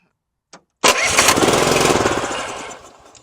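A repaired small engine, lawn-mower type, fires up after a brief preliminary click, then roars loud and close for over two seconds before gradually easing down.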